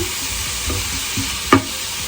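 Vegetables and ground pepper stirred in a pan for sweet and sour pork, with a soft continuous sizzle, faint scraping strokes and one sharper utensil knock near the end.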